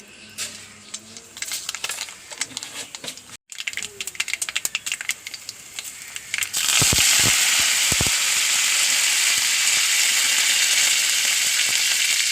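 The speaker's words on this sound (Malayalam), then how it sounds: "അപ്പോൾ എണ്ണ കാഞ്ഞു, കടുക് ഇടുന്നു." Mustard seeds hit hot oil in a pan on the stove, cooked for a Kerala cabbage upperi. Scattered clicks and knocks come first, then a loud, steady close-up sizzle takes over and holds evenly to the end.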